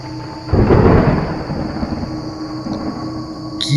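Thunder rolls in ahead of heavy rain on a pitch-dark night as a horror story effect: one loud, deep rumble breaks in after half a second, then lingers as a steady, broad roar that slowly thins out.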